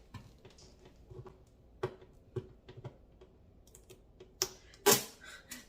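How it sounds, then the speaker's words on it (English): Protective tape peeled from a new humidifier, quiet close clicks and taps leading to two sharp loud tearing rips near the end. "So I'm gonna remove the tape."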